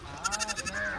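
A goat bleats at a village sale in rural Bihar, giving one close, wavering, quavering cry that ends on a longer held note, with light background noise and no talking over it.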